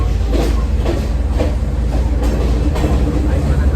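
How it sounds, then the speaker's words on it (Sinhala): A train pulling out of Badulla station in Sri Lanka, heard from on board as a loud, continuous, close rumble with a faint rhythmic clatter of wheels. "බදල ස්ටේෂන් එක පිටත් වුණා."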